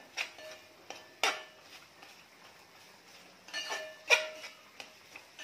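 A spatula scrapes and clinks against a pan as Kolhapuri onion-garlic chutney masala is sautéed for a dried bombil dish. The taps come sparse and irregular, close and fairly quiet, with no talk.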